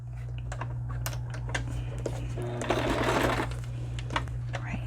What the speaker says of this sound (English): All right, I'm sewing again.